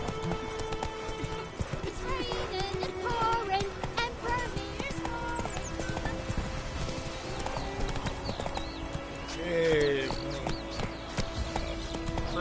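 Rhythmic hoofbeats of a horse galloping along in The Witcher 3, steady and close, with a brief neigh near the end and a voice speaking over the run.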